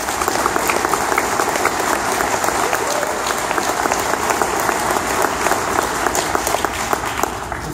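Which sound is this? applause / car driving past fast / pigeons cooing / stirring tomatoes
applause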